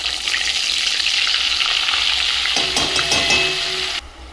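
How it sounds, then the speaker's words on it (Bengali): Butter goes into hot oil left from frying meat for garlic chicken, a loud steady broadband sizzle with clattering stirring and scraping in the last seconds before it drops quieter. "এবার ওই মাংস ভাজার তেলেতেই একটু বাটার দিয়ে দেব।"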